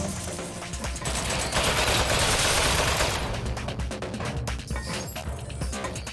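Sustained turret gunfire in a video game ambush, a dense roar of rapid shots that holds loud for several seconds and then breaks into sharper, separated bursts.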